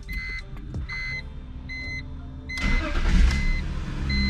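A 2001 BMW with its DME and EWS deleted: a few electronic chimes and beeps sound at ignition, then the engine cranks and catches into a louder running rumble nearby.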